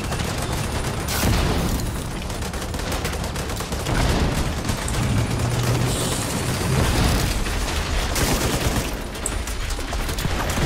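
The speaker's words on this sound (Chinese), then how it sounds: "扫射。" Sustained strafing gunfire and blasts in the video game The Division 2 during a raid, dense overlapping automatic bursts with occasional louder booms, continuous and loud throughout.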